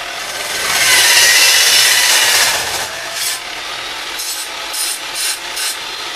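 A saw cuts metal canopy end fittings set at a 35-degree bed angle, giving a loud, rough rasping cut that swells early and then settles into a steadier grind with brief pulses, with no talking.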